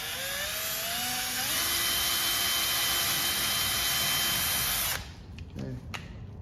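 A small drill with a tiny bit whines at a high, steady pitch for several seconds while fabricating a horse bike, rising slightly in tone, then cuts out, leaving faint clicks and handling noise.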